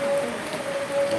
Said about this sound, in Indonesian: makin deras hujannya.